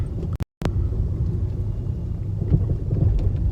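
Nissan Leaf suspension knocking while driving over a road: a continuous low rumble of the car in motion, with a brief loud knock near the start and dull bumps through the cabin, no speech.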